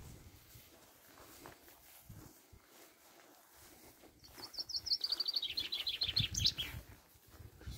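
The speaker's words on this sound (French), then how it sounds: "Je suis content que les oiseaux participent à cette émission." Birds sing outdoors near Furiani in Corsica, a bright trilling phrase that grows louder and then fades, over rustling and footsteps on the ground.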